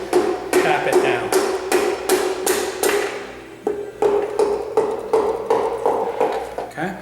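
A connecting rod is tapped down onto an engine crankshaft journal during assembly: a rapid run of sharp metallic knocks, then a short pause and a few more taps, close and loud.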